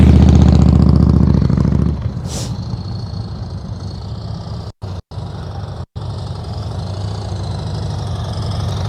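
A motorcycle engine idles and putters at low revs during a slow-speed riding practice session, steady and close, with a louder throttle burst at the start settling into an even idle and a few brief dropouts.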